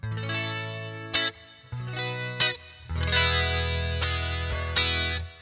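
Electric guitar played through a chorus effect placed after a boost on a Headrush MX5 rig, using a mono modulation preset; sustained, shimmering chords ring loud and alone, changing every second or so with brief pick attacks.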